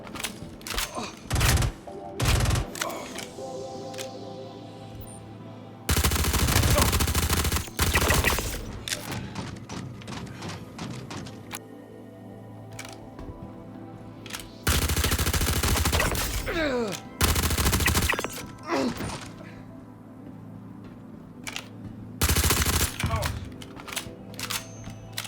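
Behring P4-AR automatic rifle in Star Citizen firing in several loud sustained bursts, separated by gaps filled with quieter game ambience and scattered impacts.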